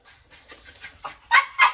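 A dog named Boomer just back from a walk gives a few soft panting breaths and light whimpering sounds, then two louder, sharper bursts near the end, close by in a quiet room.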